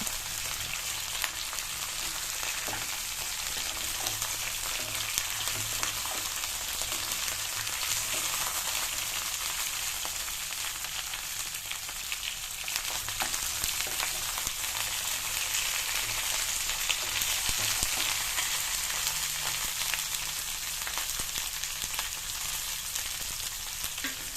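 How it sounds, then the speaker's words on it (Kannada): Onions frying in a little oil in a pan for a dhaba-style ennegayi palya, a constant close, crackling sizzle running evenly throughout with no talk. "ಸ್ವಲ್ಪ ಎಣ್ಣೆನಲ್ಲೇ ಸ್ವಲ್ಪ ಫ್ರೈ ಮಾಡಬೇಕು"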